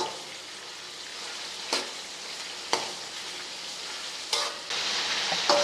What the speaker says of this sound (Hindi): चम्मच हिलाते रहना है ताकि नीचे से लगे ना।